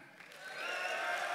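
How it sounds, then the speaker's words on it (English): Applause from the audience at a UFC 138 press Q&A swells from quiet to a fuller wash of clapping with faint cheering, building steadily over a second or so. "How about a big round of applause for the UFC back?"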